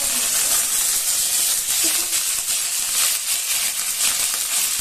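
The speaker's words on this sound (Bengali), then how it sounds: "তেলটা গরম হয়ে গেছে এবার আমি এর মধ্যে সর্ষে দিয়ে দেবো" Mustard seeds in hot white cooking oil give a steady, dense hiss and sizzle, continuous and close, with faint crackles scattered through it.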